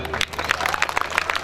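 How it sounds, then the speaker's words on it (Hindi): Audience applause at an all-India mushaira poetry recital, a dense patter of many hands clapping steadily for the whole short stretch with some crowd murmur mixed in. "एक बार जोरदार तालियां।"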